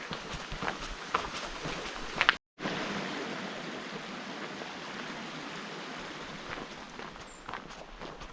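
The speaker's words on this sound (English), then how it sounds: "Some flowing water." A stream flows beneath a small stone bridge near Howden Dam in the Peak District, giving a steady broadband rush throughout, with a brief dropout and some scuffing footsteps near the start.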